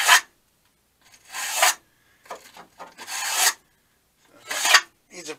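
A small stainless steel wire brush, the kind kept for aluminum welding prep, scrubs metal on a tool box under restoration in four separate raspy bursts of bristle scraping, close and fairly loud, with silence between strokes.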